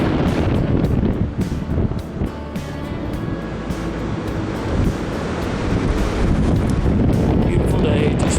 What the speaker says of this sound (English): It's pretty windy, a little chilly